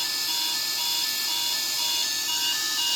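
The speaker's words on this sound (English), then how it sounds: "This is the parking brakes alarm for the takeoff." Parking brake alarm in a Boeing 777-300ER flight simulator cockpit, a steady, loud, continuous electronic tone with bright sustained harmonics, droning unbroken throughout.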